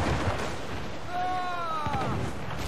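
Ship cannons firing during a naval battle in Assassin's Creed 4 Black Flag, a deep booming burst and rumble under a shouted voice, heard once in a noisy sea-battle mix.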